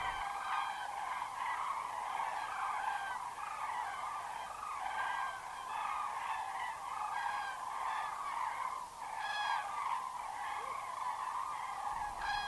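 A flock of cranes calls continuously at Söderfjärden farmland, loud overlapping trumpeting and bugling rising and falling across the whole stretch, with no talk.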